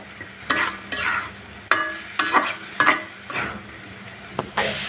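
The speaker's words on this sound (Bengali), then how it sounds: "দুই দুই টেবিল চামচ পরিমাণ টমেটো কুচি নিয়ে ভালো করে নেড়ে চেড়ে মিশিয়ে নেবো" Potato and long bean stir-fry with chopped tomato and sliced green chilies being stirred in a pan, a series of scraping, clattering spoon strokes over a soft sizzle, close and fairly loud, with no talking.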